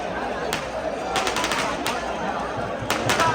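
Firecrackers burst close by at a crowded temple palanquin festival, quick strings of sharp cracks in rapid bursts over loud crowd chatter and voices.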